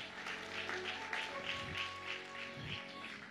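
A church congregation applauds steadily in a dense wash of clapping, with faint music or background tones sustained underneath throughout.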